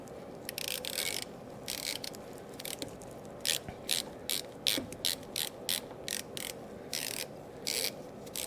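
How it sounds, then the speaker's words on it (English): A hand ratchet with a spark plug socket turns a lawn mower spark plug, its pawl clicking in quick bursts of rapid ticks and then in a steady series of short strokes, close and crisp with no talking. "I'm gonna put it on the spark plug socket and the ratchet."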